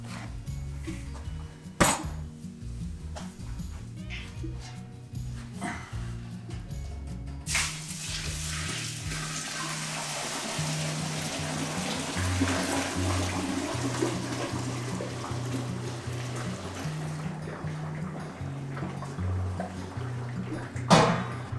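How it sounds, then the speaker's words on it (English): Strike water pours into a bucket of grain mash for home brewing, a long splashing, rushing flow that starts with a few clinks and knocks and continues steadily before a final clunk. "let's add in our strike water."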